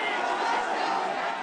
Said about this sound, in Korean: 구호를 외치고 환호하는 모습인데